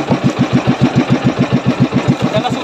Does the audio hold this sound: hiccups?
no